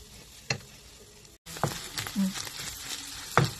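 Soft scraping and light tapping of a wooden spatula stirring food in a pan, with a gentle sizzle underneath and a few brief clacks.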